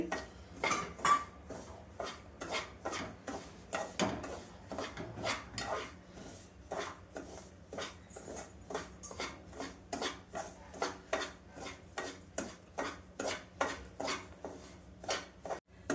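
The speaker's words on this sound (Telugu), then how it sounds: "నెయ్యి వేగిన తర్వాత ఇలా ఫ్రై చేసుకోవాలి." A spoon scrapes and taps a pan while Bombay rava (semolina) fries in ghee, making steady rhythmic clicks about twice a second, soft and close, with no talking.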